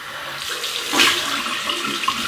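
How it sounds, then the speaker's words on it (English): Cold water runs from a tap into a sink for a rinse after a wet shave, a short steady splashing stream with a slight surge near the middle, heard alone without talk. "Cold water rinse"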